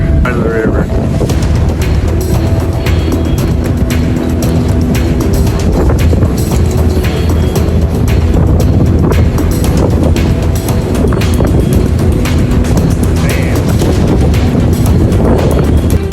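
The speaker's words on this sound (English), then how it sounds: "The winds batter the tugboat" Storm winds buffet a tugboat on the Mississippi River, producing a loud, constant roar of wind gusts against the microphone and churning water throughout, with faint voices occasionally mixed in.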